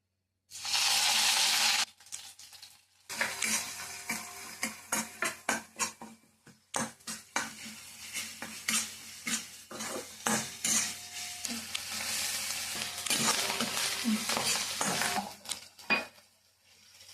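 Potato samosa filling frying in a pan for a dhaba-style samosa, with a loud sizzle burst at the start followed by repeated clanks of a spoon stirring against the metal pan over steady frying.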